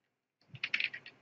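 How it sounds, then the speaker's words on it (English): Short burst of typing on a computer keyboard, a quick cluster of close, light key clicks after a brief silence, with no voices. "type a percentage"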